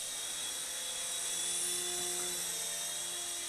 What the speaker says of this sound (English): So flies pretty nice for a 3-channel coaxial, kind of like the Cyma S107G basically.